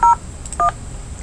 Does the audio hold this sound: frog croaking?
no